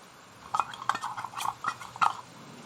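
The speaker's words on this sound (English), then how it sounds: "I tapped it with a spoon, of course." A metal spoon taps something around six times at a quick, uneven pace, each tap a bright, close clink with a short ring, in a quiet home kitchen during preparation of a BBQ-style dry rub marinade.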